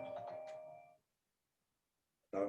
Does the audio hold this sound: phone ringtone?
yes